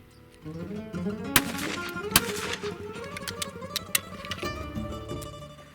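A .410 shotgun fires a reloaded Remington STS hull: sharp, loud reports crack out against a busy background rumble, with a few brief impulsive bursts spread across a few seconds.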